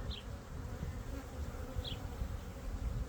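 Honeybees in a nuc hive give off a steady, soft, continuous hum with no talk over it, and two brief higher buzzes pass close by.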